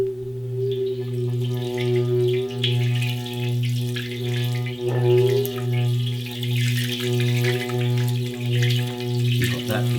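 Water splashes and ripples inside an antique Himalayan singing bowl as it rings. A steady, sustained tone pulses in an even, throbbing rhythm, with a soft wash of splashing over it.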